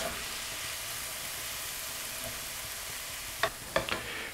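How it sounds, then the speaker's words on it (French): Tomatoes and onions stirred together in a pan, a steady close sizzle with a few spoon knocks and scrapes toward the end, moderately quiet and with no one speaking. "Mélange bien avec les oignons."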